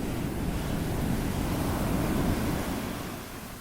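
Ocean surf breaks on a sandy beach, a loud, steady roar of rolling waves that fills the whole stretch and eases slightly at the end, with no voices.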